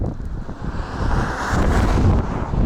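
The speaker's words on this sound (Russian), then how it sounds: "ветрюган сильный" Strong wind buffeting a microphone by a quiet roadside in Yakutia's Aldan district, a loud roaring rush that surges and swells without pause, no talking.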